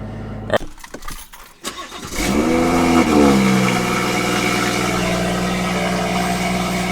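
A BMW M140i engine fires up after some brief rattling on cold startup and settles into a loud, rough, steady idle with a deep, tractor-like exhaust drone from a decat, resonator-delete exhaust.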